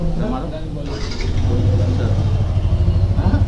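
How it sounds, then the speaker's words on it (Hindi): A brand-new Yamaha R15M motorcycle starts for the first time at a dealership delivery, cranking and then settling into a steady, close idle, with people talking over it. "तो गाइस यहाँ पे बाइक का फर्स्ट स्टार्ट हो रहा है"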